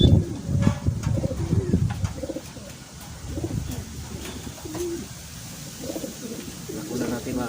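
Racing pigeons coo softly and repeatedly nearby in a loft, with low, rolling calls scattered through the stretch and faint rustling and background voices under them.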